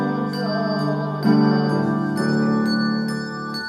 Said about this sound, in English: This is just kind of showing you what I've done when I've incorporated handbells into a praise band